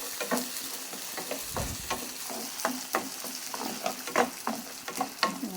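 Sambal of onion, ginger and garlic fries in a pan, with a continuous close sizzle broken by repeated clacks and scrapes of stirring.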